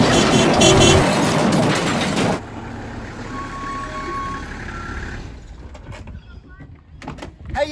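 A school bus rumbles loudly up close at first, then idles more quietly while faint steady reversing beeps sound, ending in quieter shuffling noises.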